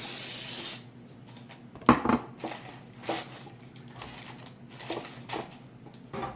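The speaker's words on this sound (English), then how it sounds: "Spray a little bit also of cooking spray." Several short hissing sprays burst out in a quiet kitchen, a brief loud spritz near the start followed by lighter puffs at irregular intervals.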